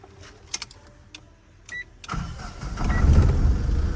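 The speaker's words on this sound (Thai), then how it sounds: "เอามาสตาร์ทเครื่องฟังดูนะ" A Tata car after repair at a workshop: a few faint clicks, then the engine cranks and catches, settling into a loud, steady low idle close by.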